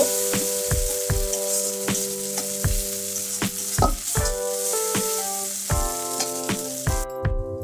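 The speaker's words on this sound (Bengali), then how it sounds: "তখন আমি মশলা ভালোভাবে নাড়াচাড়া করে মিশিয়ে ভালোভাবে মশলা কষিয়ে নেব" Ground ginger, cumin, coriander paste and turmeric sizzle and fry in hot oil for Bangladeshi bhuna khichuri, a steady close hiss broken by repeated clinks and scrapes of the stirring spoon against the pan.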